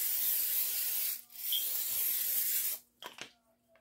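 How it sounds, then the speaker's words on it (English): Two bursts of hissing cooking spray onto a baking pan, a long steady one followed by a shorter one, close by, then a brief clatter. "We're going to spray our pan so they won't stick."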